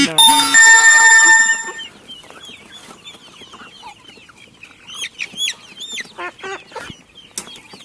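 Karinkozhi black chickens in a home coop let out a loud, sustained squawk at the start, then scattered sharp clucks and short calls follow at varying distances.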